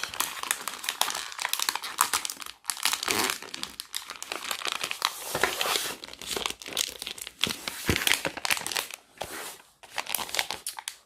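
Wrapping paper being folded around a gift box: continuous close crinkling and crumpling, with sharp rustles and brief tearing-like crackles in uneven bursts, no speech.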